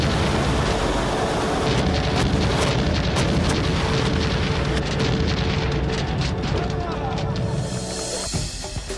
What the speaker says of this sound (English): a round of spectacular explosive volleys signal the end to the celebration